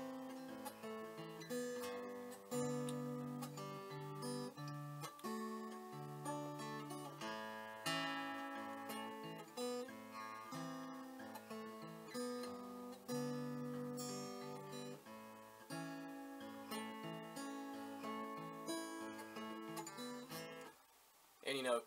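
Strummed guitar chords from the verse of a song ring steadily and fairly loudly for about twenty seconds, with sustained chord changes and no voice over them.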